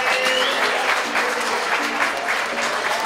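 A room full of people applauding for a man at a sports club board presentation in Edessa, with dense continuous clapping at close range and a few faint voices beneath.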